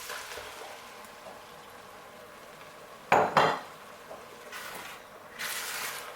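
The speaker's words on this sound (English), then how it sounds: "Mix everything up." A spoon clanks against a cooking pot as ground tomatoes are stirred into Njangsa sauce: a couple of sharp clatters mid-clip over a quiet kitchen background, then softer scraping.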